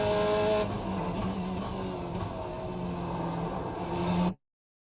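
A Corvette C8.R GTE race car in iRacing at Watkins Glen drones loudly as it brakes and downshifts to second gear, the engine note shifting pitch before cutting off abruptly.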